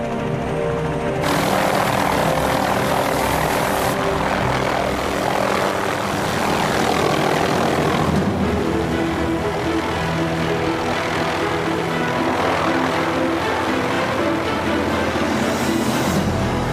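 Helicopter rotor and engine noise roars continuously at close range, loud and steady with broadband wash and shifts in intensity.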